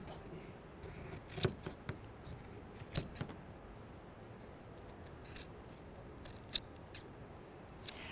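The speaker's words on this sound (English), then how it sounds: "I'll just do it with scissors quickly here." Scissors snip through fabric for a patchwork sewing project in a few quiet, close, sharp cuts spaced irregularly over a soft room background.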